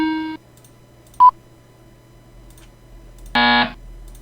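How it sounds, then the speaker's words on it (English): Short electronic buzzer tones sound as negative feedback effects for an application: a harsh buzz, a brief pure beep, then a longer harsh buzz, each separated by quiet room hum. "That's a nice negative buzz"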